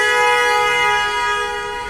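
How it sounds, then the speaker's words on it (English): A vehicle horn sounds one long sustained honk in city traffic, loud and close, fading slightly toward the end. "Was that a strategic honk?"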